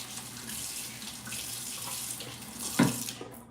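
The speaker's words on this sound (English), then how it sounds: "I had to wash my hands real quick" Kitchen faucet running steadily as hands are washed beneath it, a continuous close water hiss with a brief splashy burst near the end, no talking.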